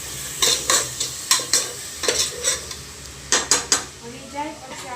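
A spoon scrapes and stirs spices frying in a hot pan, a dozen sharp scraping strokes in quick irregular rhythm over a soft, continuous sizzle, close and loud.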